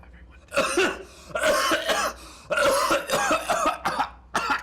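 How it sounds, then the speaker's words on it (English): A run of harsh, bursting coughs in several loud fits with brief pauses between, close to the listener. "Persistent cough."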